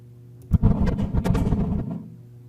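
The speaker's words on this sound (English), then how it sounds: "this is the sound of lightning on Venus." A short, muffled, low rumbling crackle of simulated lightning on Venus that bursts out suddenly, churns for about a second and a half, then fades, like a deep, dull roll of thunder.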